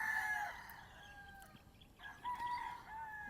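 A Sweater-breed gamefowl rooster crows, two drawn-out calls with a short gap between them, fairly close and clear over a quiet background.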